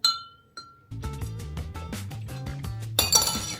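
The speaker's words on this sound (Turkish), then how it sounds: "Buzumu ekliyorum." Ice cubes dropped into a glass of Dimes Cool Lime mixed drink, a few sharp clinks first, then a quick rattling clatter of cubes settling against the glass, close and clear, ending in a bright jingle.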